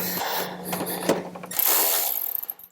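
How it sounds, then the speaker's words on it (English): Bolts going back into the gas tank of a 2016 Harley-Davidson Road Glide CVO, with clicking ratchet and metallic tool work near the mic, light scraping and a quick run of rapid clicks at the end. "so I'm going to put our bolts back in our gas tank."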